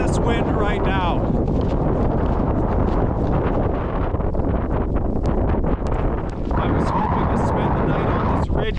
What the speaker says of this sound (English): Just taking a beating in this wind right now